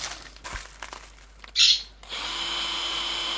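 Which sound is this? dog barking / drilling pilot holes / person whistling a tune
drilling pilot holes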